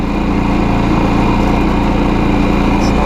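A small engine on an ATV or small motorcycle runs loud and steady at idle with a working carburetor, giving a constant throbbing hum with no breaks.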